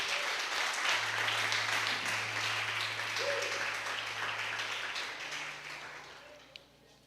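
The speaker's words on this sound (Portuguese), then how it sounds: "e aplauda Ele por isso" Church congregation at a deliverance service applauding together, steady fairly soft clapping that fades toward the end, with a sustained organ or keyboard tone beneath and faint voices.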